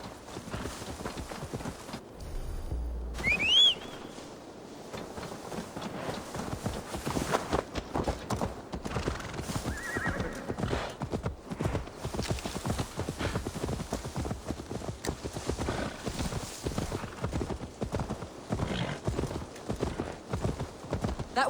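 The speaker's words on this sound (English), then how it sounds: "Now to deliver Magni his horse." Horse hooves clip-clop steadily in Assassin's Creed Valhalla as a horse is ridden to be delivered to Magni, a continuous even walking rhythm sitting over game ambience, with a brief louder burst early on.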